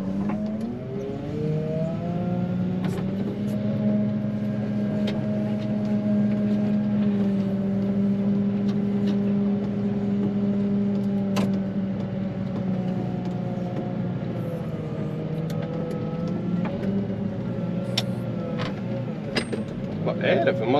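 A wheel loader's diesel engine drones steadily on a snowy road, a continuous near, loud hum with shifting tones as it works, with no talk over it.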